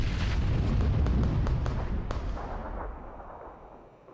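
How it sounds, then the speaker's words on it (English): A grenade goes off in a video game with a heavy, rumbling blast that decays over a few seconds, loud and booming, with a few sharp cracks scattered through the tail. "Up, grenade."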